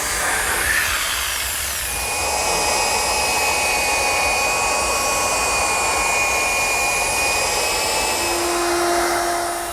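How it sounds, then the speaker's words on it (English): A jigsaw eases the corners of a chestnut desk top, cutting wood in a continuous, loud whining buzz with a steady rasp. It holds without a break for the whole stretch. "I'm just easing the corners of the top with my jigsaw."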